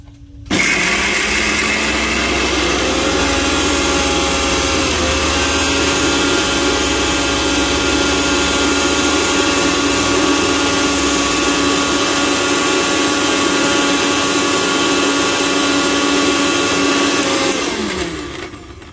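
A kitchen mixer grinder whirs steadily as it grinds spice masala, a loud, continuous motor drone that holds unchanged for about seventeen seconds before cutting off sharply.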